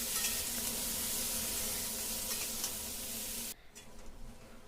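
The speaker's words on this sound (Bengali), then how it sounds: "ফুলকপির সাথে আলু আর মশলাগুলোকে আমি নাড়িয়ে চাড়িয়ে আরেকটু ভালো করে কষিয়ে" Cauliflower and potatoes with spices fry in a pan, giving a steady close hiss and sizzle that drops away abruptly near the end, leaving a quieter scrape.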